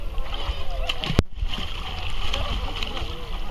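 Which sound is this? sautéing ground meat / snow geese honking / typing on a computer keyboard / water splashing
water splashing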